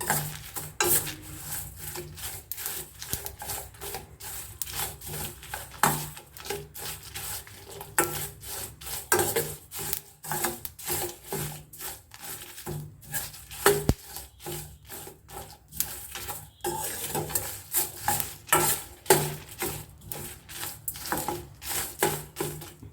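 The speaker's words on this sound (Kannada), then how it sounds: "ಬೇಳೆಗಳೆಲ್ಲ ಹೊಂಬಣ್ಣಕ್ಕೆ ಬರಬೇಕು, ಅಲ್ಲಿವರೆಗೆ ಹುರಿಬೇಕು. ಮತ್ತು ಒಣಮೆಣಸು, ಕರಿಬೇವು ಎಲ್ಲ ಕ್ರಿಸ್ಪಿ ಆಗಬೇಕು." Lentils, dried chillies and curry leaves dry-roasting in a pan, stirred with a dense run of dry rubbing and scraping strokes, close and steady throughout.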